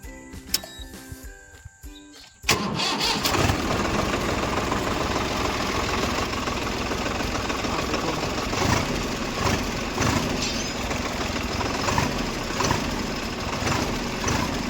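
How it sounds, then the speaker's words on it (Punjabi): A tractor's diesel engine is cranked with the self-starter. After a couple of seconds of clicks it catches and settles into a loud, steady, knocking run that continues throughout. "ਹੁਣ ਵੀ ਆਪਾਂ ਸੈਲਫ ਮਾਰ ਕੇ ਦੇਖਾਂਗੇ"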